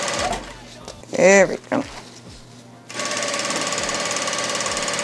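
A Vevor industrial sewing machine stitches a double-layered ribbon tutu, its steady loud drone running alone through the second half after a short spoken phrase and some handling noise at the start.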